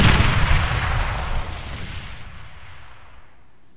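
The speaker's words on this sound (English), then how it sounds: "Oh, I can hear tanks." A single loud, close tank cannon blast in the military game ARMA 3, a sharp boom that rolls into a long fading rumble and echo over a few seconds.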